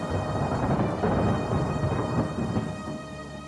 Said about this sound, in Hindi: अगले दिन बहुत जोरों की बारिश हो रही थी